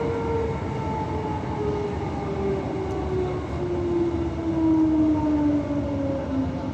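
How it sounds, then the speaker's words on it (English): Transperth A-series electric train on the Thornlie-Cockburn line between Cockburn Central and Perth, a steady interior rumble with a slowly falling motor whine gliding across the run, continuous and fairly loud with no talk. "This train runs from Cockburn Central to Perth, just like on the W pattern."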